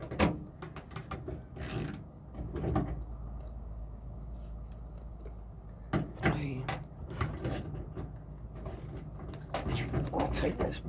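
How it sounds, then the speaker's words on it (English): Socket wrench tightening a bolt on a Ford F150 mudflap, a series of quiet ratcheting clicks and metallic handling noises heard close up, with someone talking intermittently. "I'll tighten this bolt up."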